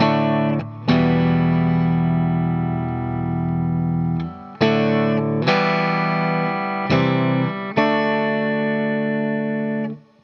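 Distorted electric guitar playing the intro to a song, several sustained ringing chords struck one after another with short gaps between them, loud and close with no talking.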